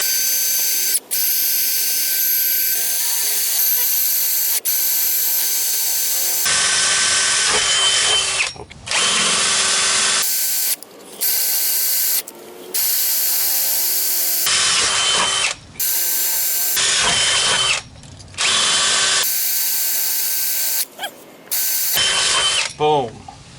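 A drill bores holes into the block of a Ford 6.0 diesel engine in a shop, with the bit cut in oil, as repeated loud whining, grinding bursts separated by brief pauses.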